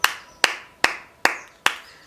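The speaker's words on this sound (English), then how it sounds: "Round of applause for her." Five separate sharp claps ring out at a wedding reception, evenly spaced about every 0.4 seconds, each crisp and fairly close with a short reverberant tail, moderate in loudness.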